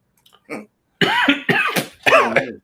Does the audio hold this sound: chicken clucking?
no